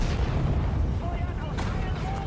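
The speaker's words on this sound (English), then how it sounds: "I'm going to have him lay down and return fire" Dense, continuous rumbling battle din from Sudden Strike 4 at the Kasserine Pass, with overlapping gunfire and distant booms blending into a steady loud roar.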